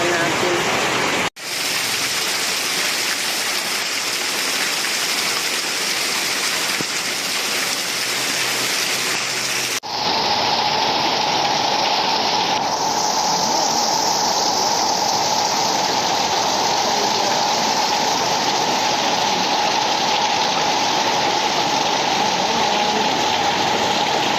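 Heavy rain pours down in a dense, continuous roar, growing louder and brighter partway through as it hits a nearby surface.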